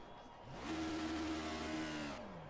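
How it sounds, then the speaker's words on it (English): Caterham Superlight engine in the Project Cars racing game, a steady mid-pitched revving drone that climbs and holds for a couple of seconds before easing off, loud and alone with no talk. "engine doesn't want to kick in at all there"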